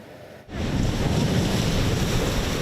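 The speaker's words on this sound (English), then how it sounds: "While the waves may be choppy" Choppy ocean waves stirred by Hurricane Erin splash over rocks at East Lawn in Stonington, Connecticut, a loud continuous roar of surf and wind that surges in abruptly after a brief quieter moment, with no voices.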